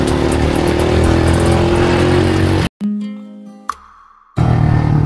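A Yamaha FZ motorcycle rides along with a steady engine drone and road rumble, cut by a brief quiet stretch before the engine noise returns.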